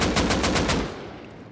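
Rapid automatic gunfire from a Rust Console Edition match, a loud close burst of about eight shots that cuts off and leaves a fading tail, with no talking.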